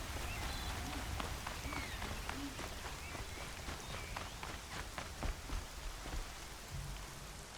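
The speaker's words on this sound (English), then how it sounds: "Rain's not so bad." Steady rain in the video game Horizon Zero Dawn, a dense hiss of drops falling across the whole clip, with scattered sharper taps and thuds mixed in at a moderate level.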